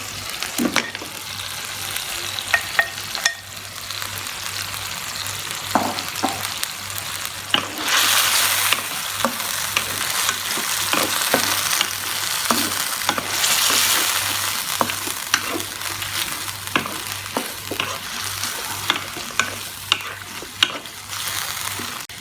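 Mutton pieces frying in masala in a pot for bhuna namkeen gosht, a loud continuous sizzle with bursts of hissing and repeated stirring clanks and scrapes, close and steady, no talk.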